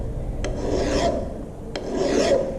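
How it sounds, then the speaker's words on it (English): A metal file rasps at a vise in two slow, even strokes, each a close, gritty scrape with a brief pause between, with no talking. "file the vise. This vise, this file here."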